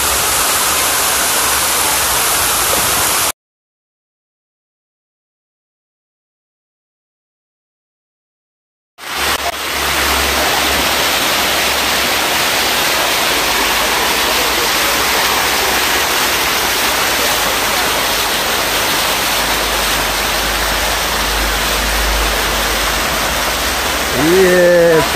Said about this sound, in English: Rumbling fall.